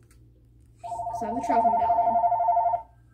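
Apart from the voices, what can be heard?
telephone ringing in the room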